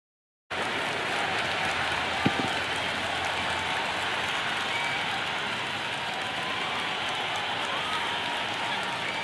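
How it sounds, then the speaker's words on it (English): Broad, steady roar of a cheering stadium crowd at a Big Bash League cricket match in the video game Cricket 26, Sydney Thunder against Adelaide Strikers, sustained and loud throughout with one brief sharp knock near the start. "Will you listen to that crowd? They are loving this."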